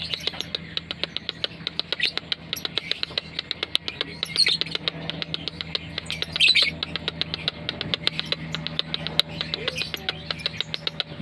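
Lovebirds chirp in rapid, steady repeated calls, close and fairly loud, with a few sharper squawks and faint rustling mixed in.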